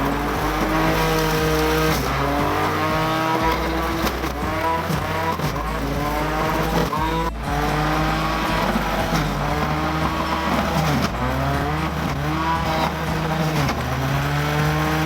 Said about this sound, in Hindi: जब मैं मशीन को चलाऊंगी तो इसका बहुत ज्यादा शोर होगा